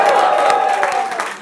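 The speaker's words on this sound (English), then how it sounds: "That's the sound of one," A rap battle audience at a Don't Flop event roars with cheering and clapping, a dense loud crowd wash that holds steady and tapers slightly toward the end.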